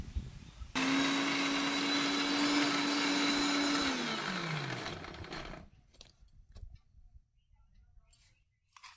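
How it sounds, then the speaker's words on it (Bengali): An electric mixer grinder pureeing taro with green chilli and ginger, a loud steady whirring roar up close that runs for several seconds, then winds down in pitch and stops, leaving faint clatter behind. "দেখো কচুটা বাটা হয়ে গেল। বাবা কি মিহিভাবে বেটেছে, মিক্সিটাও খুব সুন্দর।"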